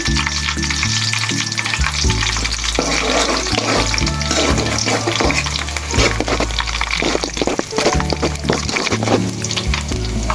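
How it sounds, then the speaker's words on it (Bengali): Onions and cinnamon sticks fry in a pan with a steady, loud sizzle. Stirring scrapes and clinks run through it without pause, and no one speaks. "আমি পেঁয়াজটাকে বেশি ভাজা ভাজা করব না"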